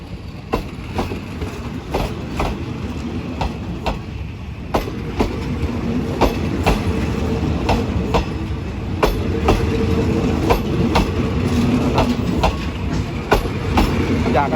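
Passenger train number 84 in Thailand, a long formation, rolling on rails with steady low rumble and repeated clickety-clack wheel beats over rail joints, loud and close throughout, with no talk.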